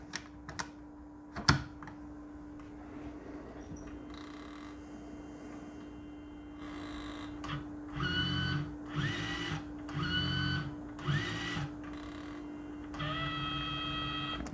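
A QIC tape cartridge slides into a tape drive, followed by a series of mechanical whirring and clicking bursts in a steady rhythm as the drive engages, loud and close with no talking.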